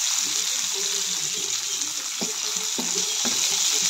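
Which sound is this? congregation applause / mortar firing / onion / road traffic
onion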